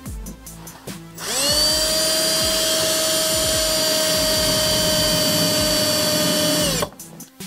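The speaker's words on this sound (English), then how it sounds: "go ahead and start drilling through the firewall." A loud power drill drilling through a classic Chevy's firewall whines at a steady high pitch for several seconds, starting abruptly and cutting off, with brief mechanical clatter before and after.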